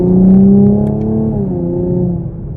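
A 2022 Chevrolet Camaro 1LT with its V6 engine pulling hard, a loud, steady drone that rises and then settles into a sustained, slightly falling note, heard up close with no talking.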